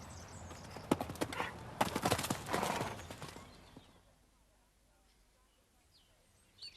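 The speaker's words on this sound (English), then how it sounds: "It's owned by Gordon Plant, who breaks and trains pedigree horses." Pedigree horses on a farm, hooves clip-clopping in a quick irregular run of sharp close knocks for about three seconds, mixed with some other movement noise, then fading to near quiet with faint birdsong.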